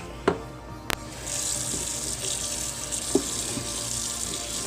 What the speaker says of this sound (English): now we're going to rinse it out